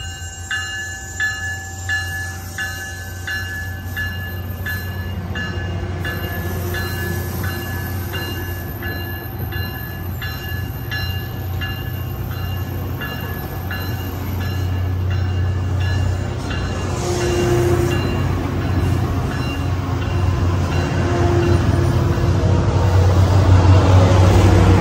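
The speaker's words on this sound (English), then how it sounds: "Train off to San Francisco." Northbound Caltrain 507 passing through Santa Clara station, a loud, steady rumble of rail cars that swells toward the end, with a faint horn-like tone, close by and without talk.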